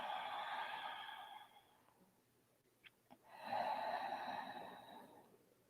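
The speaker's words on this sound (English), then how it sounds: "3 breaths here." Heavy, audible breathing from someone holding a yoga back bend, with two long, loud breaths separated by a quiet pause and a couple of brief sharp sounds before the second breath.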